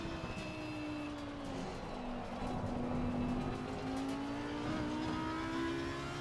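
A race car engine droning steadily as the car drives to heat up its tires, a continuous loud in-car hum that rises and falls slightly in pitch, with faint tire noise and no talk.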